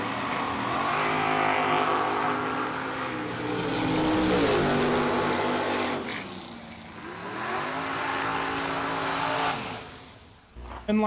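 Dragster engine at a drag race event, roaring loud and steady with rising and falling pitch sweeps as it revs, fading briefly near the end before a sharp burst.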